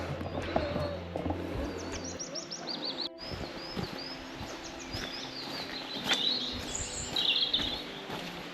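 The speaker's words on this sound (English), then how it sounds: "all you can hear is just the birds tweeting and the stream going" Birds tweet in a forest in South Wales near a waterfall and stream, scattered high chirps and short calls over soft outdoor rustle and occasional footsteps, with a brief burst of talk early on.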